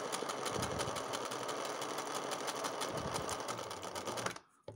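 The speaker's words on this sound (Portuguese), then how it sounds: "a gente vai fazer uma costura de segurança, até porque vai ser recortado isso aqui" A sewing machine runs a safety seam along a fabric edge for cut-and-finish work, its rapid, even stitching clatter loud and close before stopping abruptly.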